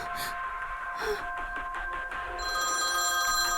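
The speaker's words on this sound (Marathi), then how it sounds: "अरे, पुन्हा त्याच नंबरवरून कॉल येतोय." A mobile phone rings with an incoming call, its electronic tone repeating steadily and clearly in a quiet room, with no one speaking.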